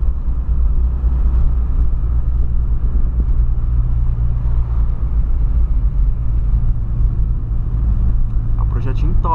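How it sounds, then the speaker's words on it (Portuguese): A VW Polo engine with work done on it gives a loud, steady, deep rumble up close, holding a constant drone for several seconds. "O motor tá muito forte, cara. Se rela, o carro já dá aquela puxada."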